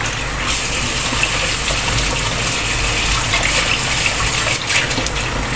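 Running water gushes steadily from a tap as oxtail is washed, a loud continuous splashing with no talk.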